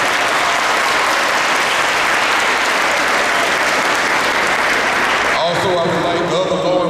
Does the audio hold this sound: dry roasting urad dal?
no